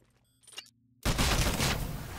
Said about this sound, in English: Eliminate all of the targets with your smart pistol.